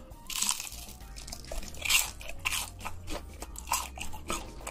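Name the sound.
crunchy fried cheese puff snack being eaten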